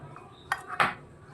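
A spoon clinks and scrapes against a pot while turmeric powder is mixed into a karonda pickle, giving two or three short, close metallic knocks over a quiet background.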